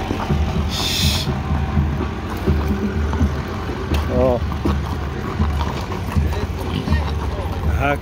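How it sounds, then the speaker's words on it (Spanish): Horse hooves clip-clop along the road to San Juan de los Valles on the feast day of San Juan, a steady rhythmic clatter under continuous voices and outdoor noise. "Un caballo."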